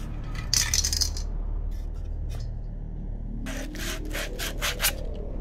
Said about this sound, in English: I'm sanding down all those super flat, unsticky surfaces so the glue and the paint will stick better to it.